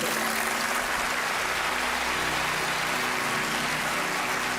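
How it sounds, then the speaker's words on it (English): Dense, steady applause from a sizable audience at a magic show, loud and continuous throughout, with no pauses. "Round of applause."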